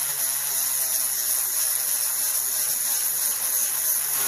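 A Dremel rotary tool grinds and polishes a piece of hard dinosaur gembone, giving a steady high-pitched whine with a continuous buzzing tone, close and fairly loud, no talking.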